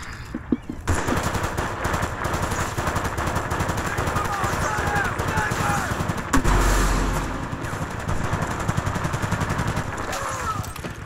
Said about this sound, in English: A heavy machine gun in the upper base, maybe